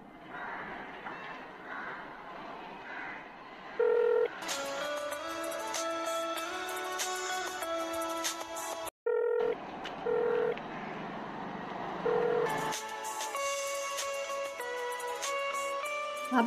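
A telephone number is dialed on a keypad, producing a series of short, distinct beeping tones spaced a few seconds apart. Soft background music plays throughout.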